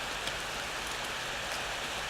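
Steady rain in the video game Corpse Party, a dense, even hiss that fills the whole stretch at a low level with no voices over it.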